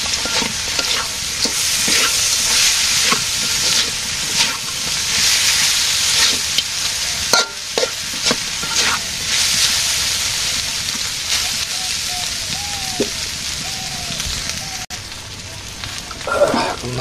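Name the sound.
fish frying in oil with turmeric and chili powder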